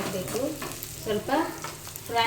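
Onion frying in a pan with cumin makes a soft, steady sizzle under intermittent tonal clatter and scraping of stirring, close but fairly quiet over a couple of seconds.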